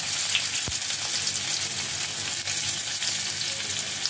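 Crushed garlic and a dried red chilli fry in hot oil, giving a dense, steady, bright sizzle that fills the whole stretch. One sharp low knock stands out near the start, and no one speaks.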